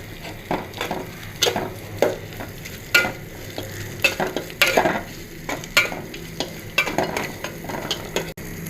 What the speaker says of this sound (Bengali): মশলাটা একটু কষানো হচ্ছে।